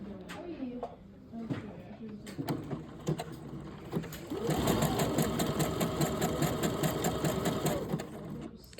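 A sewing machine stitches a wide, closely spaced zigzag bartack on a pocket, starting with a few short whirs and then settling into a steady, rapid mechanical chatter at close range while a person talks over it.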